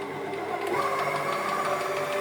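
Steady whirring motor of a kitchen mixer on speed 2 blending a banana mixture, a continuous even drone with faint rhythmic ticking, close by and without talk.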